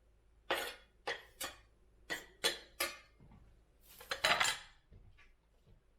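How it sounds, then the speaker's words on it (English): A spoon stirs homemade salsa with cilantro in a bowl, giving a series of sharp scraping clinks at an uneven rhythm, with a louder rattling cluster near the end, close and clear with no talking. "Another salsa stir."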